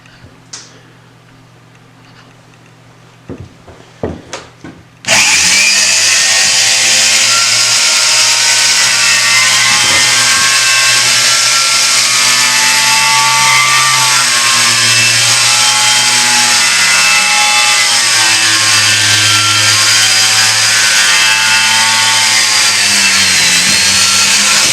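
A valve seat grinding stone spinning on a small block Chevy cylinder head during a three-angle seat grind, a loud steady high-pitched whine that starts abruptly after a few faint knocks and runs continuously, close up.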